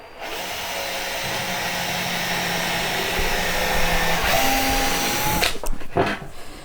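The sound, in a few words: power driver driving screws into the base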